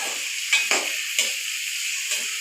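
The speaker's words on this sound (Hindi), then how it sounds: "इनको फ्राई करूंगी। गाजर शिमला मिर्च" Carrots and capsicum fry in a pan for chicken Chinese rice, a constant close sizzle broken by a few sharp stirring clinks and scrapes of a utensil.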